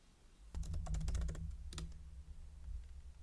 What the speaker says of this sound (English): so I type /export